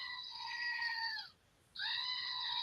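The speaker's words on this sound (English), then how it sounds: "This is like a toy goat, and he actually makes a goat sound." A toy goat lets out two loud, drawn-out goat screams with a brief pause between them, close up and with no other sound around them.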